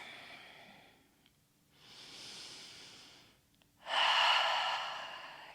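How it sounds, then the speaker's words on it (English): Slow, deep breathing during a gentle yoga hip and leg stretch: a soft airy inhale, a pause, then a louder, fuller exhale through the mouth, close and unhurried with no speech. "Breathing in, breathing out."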